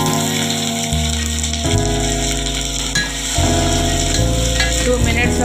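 Potato frying in oil for a Puri and besan tiffin, a steady sizzle heard up close beneath louder background music that shifts pitch every second or two.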